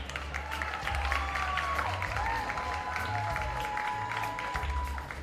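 Audience clapping at a performing arts awards ceremony, a steady wash of applause heard from a distance and fairly faint, with low rumbling and some tonal sounds mixed underneath.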